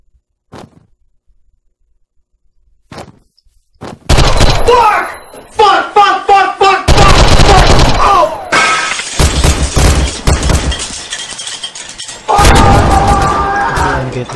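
In Minecraft DayZ, gunfire hits the player as a quiet opening gives way to a loud run of sharp, crashing impacts and booms. The hits come in rapid bursts, with brief gaps between them.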